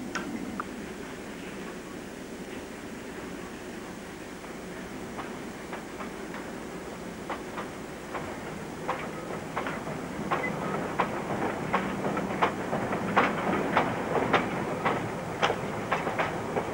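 Freight wagons of a New Zealand Railways train roll steadily along the rails, a continuous rumble with a regular clickety-clack of wheels over rail joints that grows slightly louder and more distinct as the cars pass close by, with no talk.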